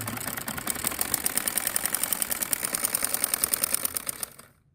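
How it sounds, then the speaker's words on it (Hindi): A sewing machine stitches the lining of an angrakha-style kameez in a fast, even run of mechanical clatter that cuts off abruptly at the end, with no talking. "अब मैं इसकी साइडों पे लगाने लगी सिलाई"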